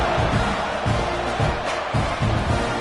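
A football stadium crowd roars in a steady, loud wash of cheering and whooping, with pulsing swells throughout and faint voices mixed in.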